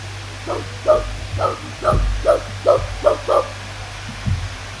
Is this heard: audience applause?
no